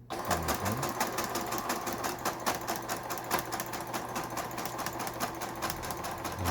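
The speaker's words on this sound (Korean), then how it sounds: "옷감을 넣고 박음질을 해보도록 하겠습니다" A Brother household sewing machine stitches fabric with its lower thread tangling. It gives a steady, rapid mechanical chatter with an even rhythm that runs without a break for several seconds, close and clear, with no voices.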